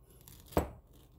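A knife cuts into a pineapple in one quick, close crunching slice, with quiet kitchen background before and after and nobody talking.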